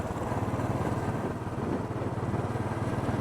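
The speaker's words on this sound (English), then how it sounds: "There's bikes everywhere." Several motorcycles rumble steadily nearby in a busy beachfront bar area in Tampa, Florida, a continuous low engine drone with a pulsing idle throb and no talk over it.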